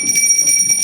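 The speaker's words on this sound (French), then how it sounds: "Il ne quitte le bouton de la sonnette que lorsqu'on est venu lui ouvrir." A doorbell rings continuously in a French home, its button held down until someone opens the door, producing a steady bright electric ringing with no voices over it.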